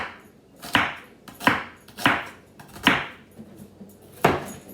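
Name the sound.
knife chopping onions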